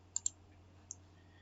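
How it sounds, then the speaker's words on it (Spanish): A few sharp computer mouse clicks: two quick clicks close together, then a single click a moment later, near and crisp over a faint steady hum with no talking. "selecciono, hago clic con el botón derecho y le doy borrar flecha"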